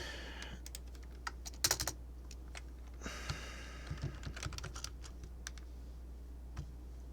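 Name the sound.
typing on a computer keyboard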